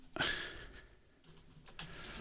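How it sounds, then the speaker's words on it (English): Close, quiet tapping of keys on a computer keyboard in a short burst, with a soft clatter of strokes and no speech. "you can hear me doing the old typing on the keyboard nonsense in the radio broadcast"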